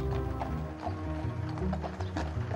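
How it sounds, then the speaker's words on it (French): Horses pull carriages along the car-free lanes of Sark island, their hooves clip-clopping in a steady, close rhythm over a continuous tonal backdrop. "c'était la révélation d'un monde disparu, celui des calèches et des chevaux"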